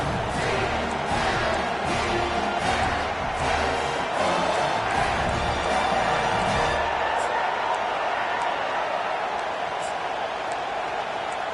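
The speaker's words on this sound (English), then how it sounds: "Fourth down, and this crowd is making it miserable on this offense." A loud college football stadium crowd roars steadily through a fourth-down play, a dense wall of cheering and noise with a commentator talking over it.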